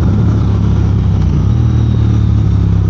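Triumph Speed Twin motorcycle accelerating on the road, a loud, close engine roar rising continuously with wind noise and no talk.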